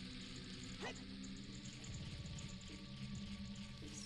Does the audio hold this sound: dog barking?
yes